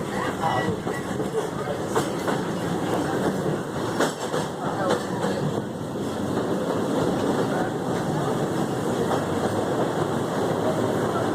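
A train rolls steadily along the rails with rhythmic clicks and clacks over a continuous rumbling roar, fairly close, running the whole time.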